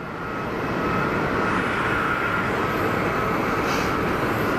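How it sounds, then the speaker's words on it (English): Embraer jet engines spooling up at Geneva Airport, a steady, loud broadband roar with a rising whine that swells in the first half-second and then holds constant, heard from moderately close with no talk. "Embraer about to crank its way out."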